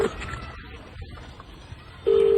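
A telephone tone heard while placing a call, set against noisy street ambience. A steady, fairly loud tone cuts in near the end of the clip.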